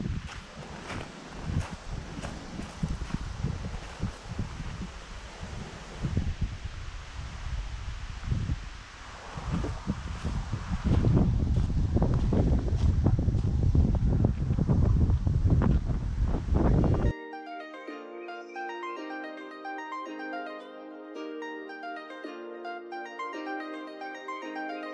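Wind gusts blow across an open shoreline, a rough rushing roar buffeting the microphone for most of the stretch before it cuts abruptly to music with no wind.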